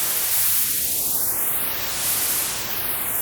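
Broadband white noise sweeps through an EQ and filter bank plugin, a moving notch or filter band gliding up then back down to give a hissing, whooshing tonal sweep, steady and loud with no voices.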